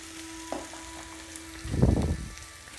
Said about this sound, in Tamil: இதை நல்லா வதக்கிக்கோங்க